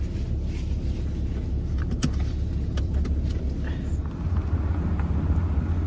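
A car pulls away near Moses Pier in Gulfport, its engine rumble and road noise steady and close inside the cabin, with a few sharp clicks and a brief dip partway through.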